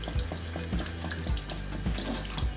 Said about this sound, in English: I'm just going to decant some of this into the container.